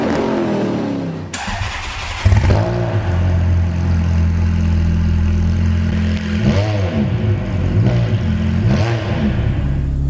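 A Ferrari F430 sports car engine fires up with a sharp bark, then settles into a loud, steady idle with low rumbling harmonics and a couple of brief throttle blips, heard up close with no talking.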